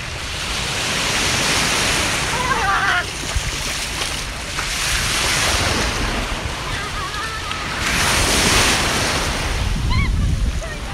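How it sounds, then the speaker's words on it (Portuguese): Ocean waves wash onto a beach in Portugal, loud surging swells rising and falling with wind buffeting the microphone. "Essa aqui é uma praia."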